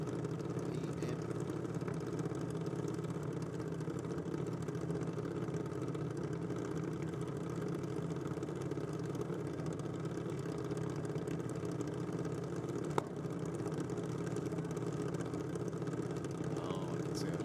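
Junior Dragster engine at a drag strip, a steady mid-pitched idling drone held at even loudness throughout, with one brief sharp click partway through and no speech.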